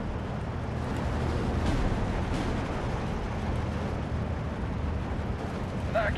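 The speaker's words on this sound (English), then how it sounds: "And we've got 120s falling on us now." 120mm artillery shells from the video game Steel Division 2 keep landing in a heavy, rumbling barrage, booms blending into a dense, steady roar of explosions with a voice talking over it.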